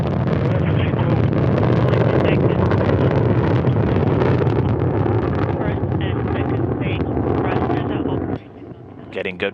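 A Soyuz rocket lifts off on its four strap-on engines, a dense, loud, continuous roar with crackling rumble that dips slightly near the end, while a commentator talks over it.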